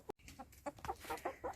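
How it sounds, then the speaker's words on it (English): Egg-laying hens, including a Rhode Island Red, cluck in a steady series of short, moderately loud calls close by in a homestead coop, with a brief rustle at the start. "And these are our egg layers."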